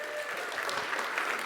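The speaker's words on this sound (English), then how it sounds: "that's probably worth some huge applause" Audience applause fills a keynote hall at a game developers conference, a steady dense wash of clapping from a large crowd, moderately loud and continuous with no talking over it.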